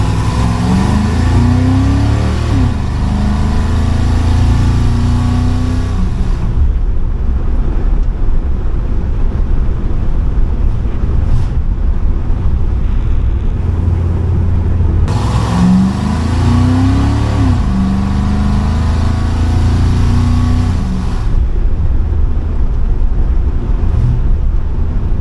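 A car engine fitted with an Edelbrock carburetor, heard while driving: loud, close engine drone with two rising acceleration runs, each followed by easing off, steady and without speech.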